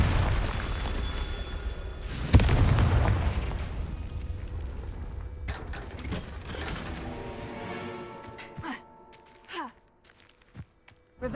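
Confringo spells go off in the game Hogwarts Legacy, opening with a loud, dense rumbling burst that slowly fades, then giving way to scattered magical whooshes, chimes and sharp pops that grow sparser toward the end.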